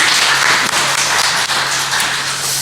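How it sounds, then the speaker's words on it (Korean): Church congregation clapping steadily together in worship, a dense, loud wash of many hands filling the room without a break. "하나님 앞에 감사하며 박수합니다"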